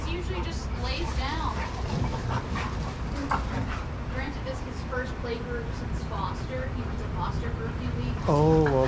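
Dogs bark, yip and whimper while playing together at a dog daycare, with scattered calls over steady indoor background noise and a louder whine near the end; people talk quietly in the background.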